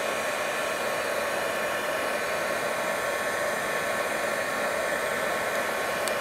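A heat gun blows steadily and loudly throughout, a continuous broadband roar like a hair dryer, as it warms a decoupage image onto a candle to melt it in.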